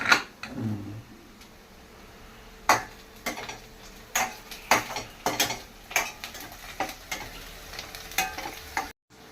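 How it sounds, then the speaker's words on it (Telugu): Onions frying in a pan: a low sizzle runs under repeated sharp clinks and scrapes of a spoon stirring against the pan, spaced irregularly and close by. "ఉల్లిపాయ చక్కగా వేగింది ఇప్పుడు తోటకూర వేసుకోవాలి"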